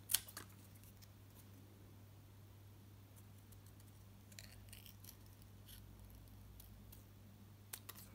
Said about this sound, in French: nous allons devoir les découper au ciseau